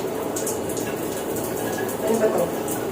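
Water pours steadily from a tap during a bath, a close continuous splashing rush that swells slightly toward the end.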